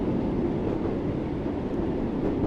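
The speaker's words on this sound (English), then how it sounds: "I'm just letting the train now coast because we can, and also we are now going down a hill into the platform" Class 484 electric train coasting downhill toward a platform in Train Sim World 5, a steady broadband rumble and rail hum at constant level throughout, with no talk.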